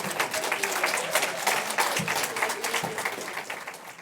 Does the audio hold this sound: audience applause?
yes